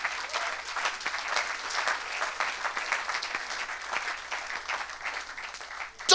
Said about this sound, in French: Alléluia. Acclamez pour Jésus.